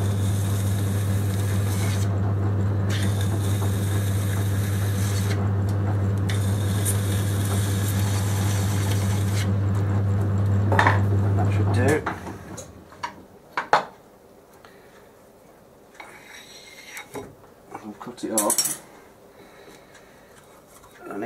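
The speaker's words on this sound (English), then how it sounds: "I'll just try and trim a bit of this rubbish out from underneath before I cut it off" A tool trims clay from the underside of a pottery lid spinning on a wheel, with a steady low whirr and scraping that stops after about twelve seconds, followed by sparse light taps and clicks.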